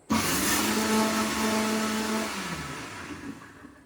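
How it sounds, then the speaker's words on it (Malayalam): A mixer grinder on pulse whirs loudly in a short burst of two to three seconds, its motor pitch steady then winding down as the pulse releases, no voices present. "മിക്സിയുടെ പൾസിലേക്ക് ഇടുക. ഒരു 2-3 സെക്കൻഡ്സ് അടിക്കുക."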